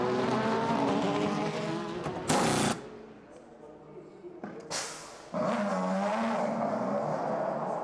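Toyota and Audi WEC prototype race cars roar past during the 2016 6 Hours of Nürburgring, loud engine bursts that swell and fade under steady race commentary.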